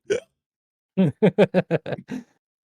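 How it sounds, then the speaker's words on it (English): A voice acts out hiccups in a fantasy role-play game: one short hiccup, a pause, then a quick rapid series of seven close, voiced hiccup-like bursts. "then maybe a hiccup"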